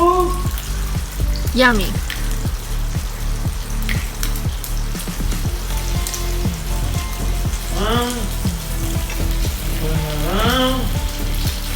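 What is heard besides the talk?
bacon sizzling as it fries in a pan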